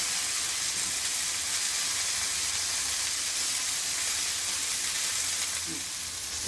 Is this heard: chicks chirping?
no